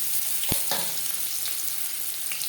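Pieces of bottle gourd fry in a pan with cumin seeds, dried chilli and a bay leaf, giving a steady close sizzle broken by a few sharp clinks and stirring scrapes.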